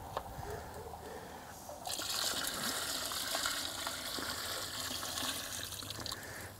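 Brine is poured over a turkey inside a smoker, a steady liquid splash and trickle that swells louder partway through and continues without talk.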